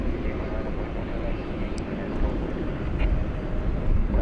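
An American Airlines Boeing 737-800 at DFW Airport at night gives a steady, broad jet roar that holds throughout and swells slightly toward the end, heard from a distance without talk.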